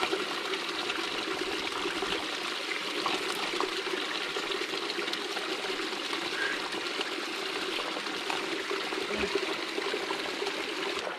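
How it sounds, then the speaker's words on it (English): Sulphury Gill, a small stream in the Lake District near Angle Tarn, flows and gurgles steadily, a constant close rush of water with no voices. "So that is actually a flowing water source"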